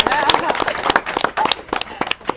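A short round of applause for a girls' volleyball game winner, with scattered close claps mixed with people speaking and cheering over it.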